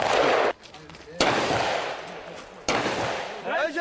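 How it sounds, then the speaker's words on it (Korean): South Korean army rifles fire during a shooting training drill, sharp bursts of gunfire separated by brief pauses, loud and near, with a couple of distinct single cracks. "악조건 하 사격은 실제 전투와 같은 정신적, 육체적 스트레스 속에서도 전투 사격 능력을 갖출 수 있도록 하는 훈련입니다."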